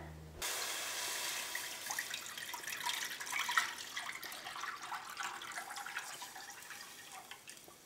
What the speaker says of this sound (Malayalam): ഈ സെയിം പാനിലേക്ക് തന്നെ നമുക്ക് മിൽക്ക് ചേർക്കാം